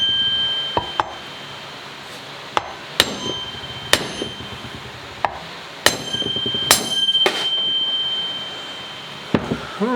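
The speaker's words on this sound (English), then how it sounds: "Get some wood here and whack it a couple times." A hammer whacking a block of wood to seat a bearing on a Yamaha Royal Star motorcycle, about eight sharp separate strikes at irregular intervals, close and loud over a quiet workshop background.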